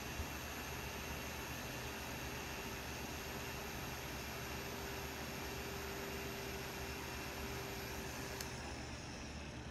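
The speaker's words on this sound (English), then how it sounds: "Let me put the polisher down." A car paint polisher works Chemical Guys V34 Optical Grade Hybrid Compound, giving off a steady, loud, unbroken mechanical whir with a constant whine that runs through the whole stretch without any talk.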